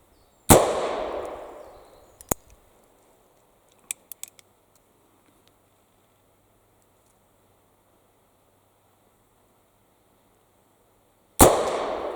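An original .44 Colt Dragoon 3rd model revolver fires two loud sharp shots outdoors, one near the start and one near the end, with faint clicks and a quiet pause between.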